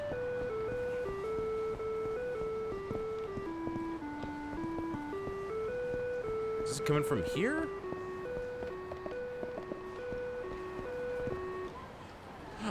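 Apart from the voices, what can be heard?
traffic signal chime in Yakuza 3 (video game)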